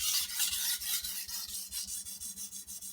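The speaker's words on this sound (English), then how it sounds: "applying pressure with my fingers, because that's where the sharpening is taking place" A blade being sharpened by hand with firm finger pressure to raise a burr, giving a steady, close rasping scrape in rhythmic back-and-forth strokes, about a dozen in quick succession.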